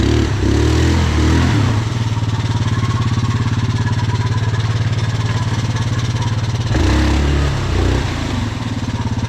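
A Grizzly 700 quad bike engine runs loudly nearby, idling with a rough throb and briefly revving at the start and again near the end.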